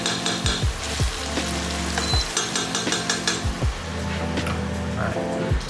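Olives and other ingredients fry in a pan for a fresh tomato pasta sauce, a loud, continuous sizzle broken by regular scraping stirs about once a second.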